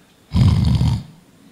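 A person imitates a snore with one short, rough, rumbling inhale, loud and close.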